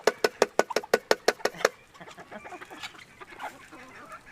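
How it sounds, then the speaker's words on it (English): Full-grown bantam chickens give a fast run of about ten sharp, evenly spaced squawks or honking calls, then fainter scattered clucking and rustling nearby. "these are bantams. These are full-grown chickens."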